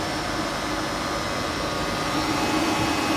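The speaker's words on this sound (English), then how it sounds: "The compressor's on and staying on." A 2014 Toyota Prius A/C compressor and cooling fans run steadily after a refrigerant valve is opened, giving a continuous broadband whooshing hum at even loudness with no speech.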